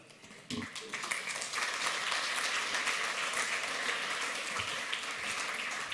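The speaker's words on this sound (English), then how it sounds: "So you could applaud, I think." An audience at a computer security conference talk breaks into applause after a demonstration, a dense, sustained wash of clapping that swells quickly and holds steady throughout.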